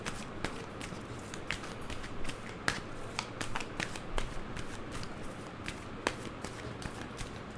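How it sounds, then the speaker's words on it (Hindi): Tarot cards being shuffled and laid out in a reading, heard as close, quiet papery slaps and flicks at an irregular pace with no voices. "सो मैं यहाँ पर 3 कार्ड्स रख रही हूँ।"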